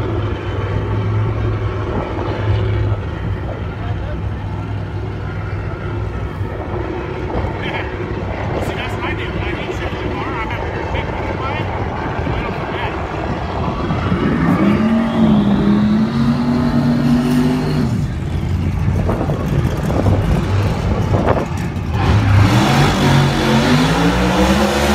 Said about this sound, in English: I hear him firing up